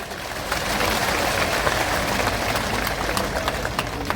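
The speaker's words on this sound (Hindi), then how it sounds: "आप एक बार सब अतिथियों को एक बार ताली बजाने दो" Crowd at an outdoor election rally applauding the guests, a broad, continuous wash of clapping that holds steady from start to finish with no speech on top.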